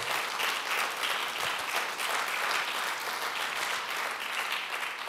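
Congregation at a church service gives a steady, dense round of applause, many hands clapping together at moderate level for about five seconds with no voices standing out.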